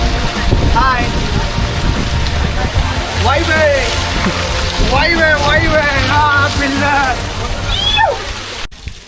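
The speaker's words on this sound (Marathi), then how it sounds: "आता बघू शकतं हे वरून पाणी पडतं ते त्या पायऱ्यावरनं खाली जातं" Monsoon rainwater pours and splashes down the stone steps of Visapur Fort on a trek, a constant rushing wash of water under someone talking throughout.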